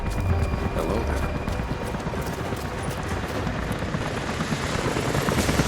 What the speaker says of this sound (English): helicopters are headed your way